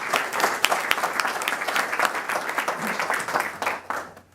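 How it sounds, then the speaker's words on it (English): Guests at a graduation dinner break into a lively round of applause, with individual hand claps clearly audible within the dense clapping throughout. "So let's clap a little bit."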